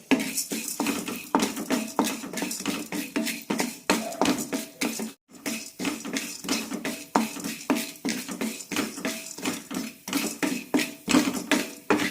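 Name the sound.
roasting chana dal in a pan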